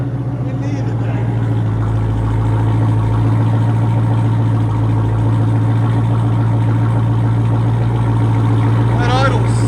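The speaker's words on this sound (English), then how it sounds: "Here, let me let you guys hear idle." A 2023 Dodge Durango Hellcat with a 6.2L V8 and straight pipes idles with a deep, steady, rumbling burble, loud and close, while a voice speaks briefly over it.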